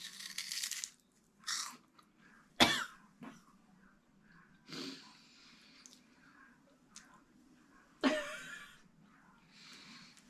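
A few sharp coughs and splutters after eating freeze-dried pickles, scattered among crunchy bites and quiet gaps, close to the listener.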